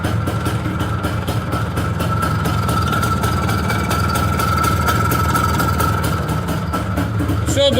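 An IZh Planeta 5 motorcycle with a replacement ignition coil idles steadily and close by, a constant mechanical chug with ticking and clatter that stays even throughout, with no voices.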